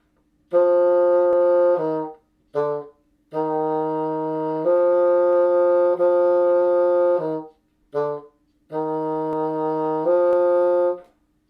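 A bassoon plays a short phrase of detached notes with small gaps between them, each note clearly separated, solo and close.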